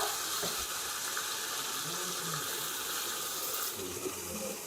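Water poured into a cooking sauce of pepper, smoked paprika and salsa, a steady gushing and splashing stream that runs for several seconds, moderately loud and close.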